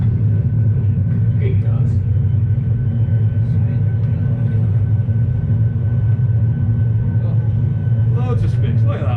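An airliner landing in a flight simulator game, with a loud, constant engine rumble of reverse thrust and braking throughout and a voice calling out speed over it.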